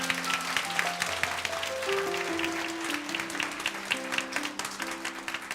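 A church congregation claps together during a Sunday worship service, a steady broadband patter sustained for several seconds while background music tones hold underneath.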